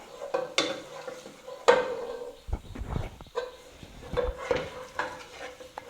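Ground beef taco filling is stirred in a pan with a utensil, giving scraping, clinking strokes against the pan over a faint sizzle, close and moderately loud with brief pauses.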